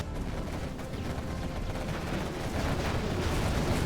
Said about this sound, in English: Massive Scud launcher hits, and all of this is getting cleared up